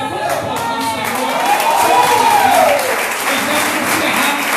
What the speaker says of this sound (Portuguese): Lá para Pai, vamos aplaudir o Senhor.